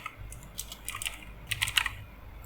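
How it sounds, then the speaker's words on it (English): A Midjourney prompt is typed on a computer keyboard, a close patter of key clicks in short uneven bursts, alone without talk. "Just type /imagine again."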